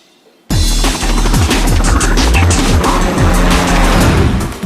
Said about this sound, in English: FlatOut 2 for the PC is a fast-moving crash-em-up racing game where you earn money to upgrade and buy better cars